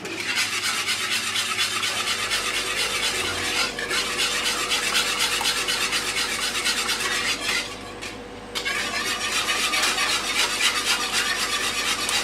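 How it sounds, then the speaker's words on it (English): Lemon curd thickening in a pan is stirred without a break. A steady, close scraping and rubbing of the utensil against the pan continues for the whole stretch, with one brief pause. "You constantly start stirring. You don't want it to get starting to get burned."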